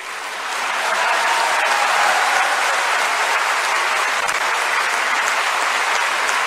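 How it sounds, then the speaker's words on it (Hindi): Large audience at a speech on India's development, reforms and economy breaks into sustained applause that swells within the first second and holds as a thick, even roar of clapping. "तालियां कम हो गई।"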